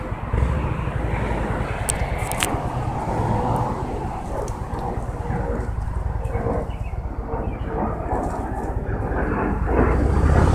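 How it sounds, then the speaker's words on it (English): A fixed-wing airplane passes overhead outdoors as a broad, steady rumbling drone beneath rustling and nearby movement, with a few sharp clicks early on and some chatter. "There's an airplane flying above us."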